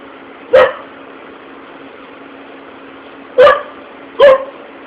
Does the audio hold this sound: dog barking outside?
yes